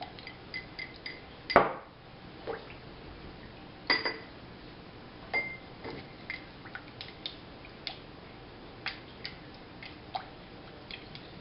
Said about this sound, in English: So I'm just going to stir it up and mix it up a tiny bit.